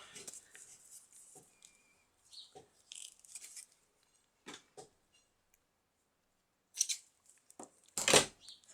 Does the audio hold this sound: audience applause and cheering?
no